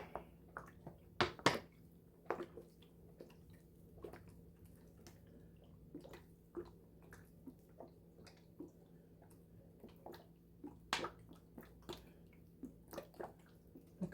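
Water is poured over a pot with freshly planted turmeric, giving soft, close trickles and scattered drips with brief louder splashes, all quiet.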